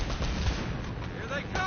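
Grenade launcher fire and heavy gunfire during a firefight in Uncharted: Drake's Fortune, a dense loud barrage of blasts with a voice talking over it.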